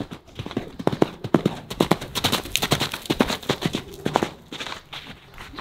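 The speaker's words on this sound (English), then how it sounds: "It's always nice when horses run. Sounds good, feels good." A horse's hooves drum rhythmically on the ground during a liberty session as it runs, giving close, quick, uneven clip-clop beats throughout.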